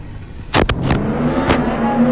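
A Dodge Challenger engine in a video game revs in short, loud bursts, with sharp throttle blips near the start and another midway over a steady engine drone.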